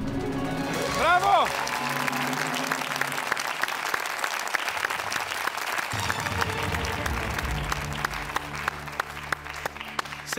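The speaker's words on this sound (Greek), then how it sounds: "Σε χειροκροτώ κι εγώ" A studio audience on a Greek edition of Who Wants to Be a Millionaire claps loudly and continuously, dense applause lasting about ten seconds, with a brief musical sting near the start.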